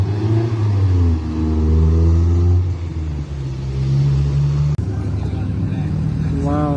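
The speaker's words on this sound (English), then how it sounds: "Lamborghini Huracan. Wow, that sounds good." Lamborghini Huracan at a Gumball 3000 rally, its engine revving loudly and rising in pitch as it drives past close by, with a brief cut and another rising rev near the end.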